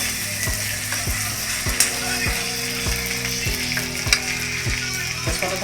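Onions and green chillies sizzle in a pan for a chicken dish, a steady frying hiss punctuated by regular scraping clicks of a stirring spoon, with faint talk in the background.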